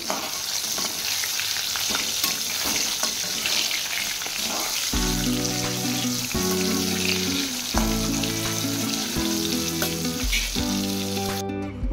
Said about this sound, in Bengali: আলুগুলোকে লবণ হলুদ দিয়ে ভেজে নিচ্ছি